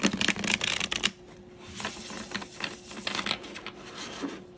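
Deviant Moon tarot cards being shuffled by hand, a dense riffling burst up front followed by softer, scattered card rubs and taps, close and fairly quiet with no talking.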